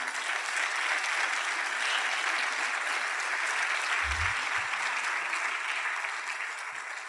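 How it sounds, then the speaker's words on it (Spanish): A church congregation applauds during a Spanish-language sermon, a steady wash of many hands clapping at once that holds evenly throughout and eases slightly near the end. "denle un aplauso al Rey"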